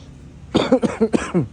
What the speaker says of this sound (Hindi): खांसी इस वक्त ऐसी हो रही है